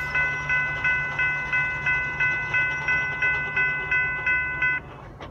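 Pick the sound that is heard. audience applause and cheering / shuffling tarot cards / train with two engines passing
train with two engines passing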